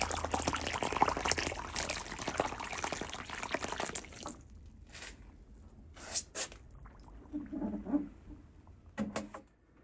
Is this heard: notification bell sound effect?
no